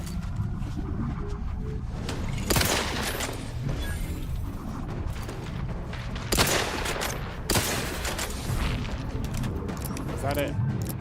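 Volleys of gunfire crack out in a sci-fi shooter set on distant colony worlds, sharp bursts landing around 2.5, 6.3 and 7.5 seconds over a steady combat din, with voices talking throughout.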